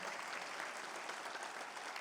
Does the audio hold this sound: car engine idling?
no